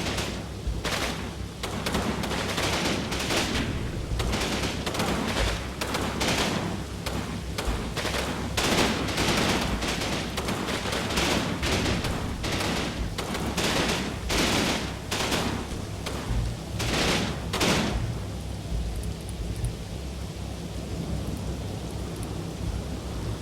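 Mortar and gunfire in the Normandy wartime video game Combat Mission, a steady barrage of sharp repeated blasts in quick succession, loud and dense, tapering into quieter background rumble near the end.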